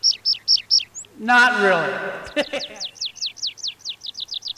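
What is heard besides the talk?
wild birds singing in rural Portugal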